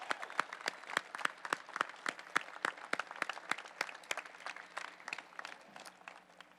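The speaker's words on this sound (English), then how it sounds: "we're going to clap for you all" An audience at the Indianapolis 500 drivers' meeting claps steadily, a moderate crowd applauding at a distance, rhythmic and fairly faint, with no voices over it.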